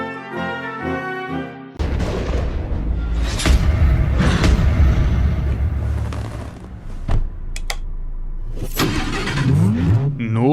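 An AMG V10 turbo convertible engine roars loudly and steadily, with heavy booming bursts, after a short burst of musical tones.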